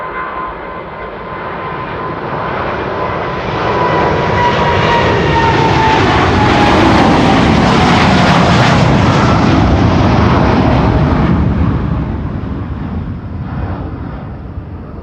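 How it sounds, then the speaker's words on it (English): A KLM Boeing 787 Dreamliner airliner at Amsterdam Schiphol roars past, its engine noise building over several seconds to a loud, whining peak before slowly fading, with a descending tone sweeping through and no voices. "KLM flight 755 to Quito."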